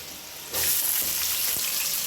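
Onions drop into hot oil in a pan for fish curry and burst into a loud, close, steady sizzle with faint crackles.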